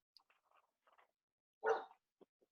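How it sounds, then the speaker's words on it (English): A pet dog gives a single loud bark close by, preceded by faint scattered indoor noises and followed by a couple of soft short sounds. "Sorry, my dog's barking."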